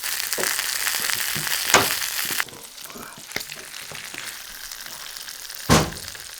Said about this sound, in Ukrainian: І на малому вогні, щоб не горіло і поволі сало топився жир, кишка прогрівається і поступово краєчки обсмажуються.